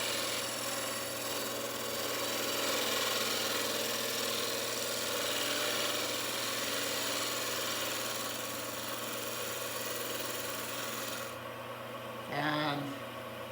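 A wood lathe turns a small bowl while a tool takes a light shear scraping cut, producing a steady humming drone with a faint scraping texture. Near the end the noise drops away and a short voice is heard.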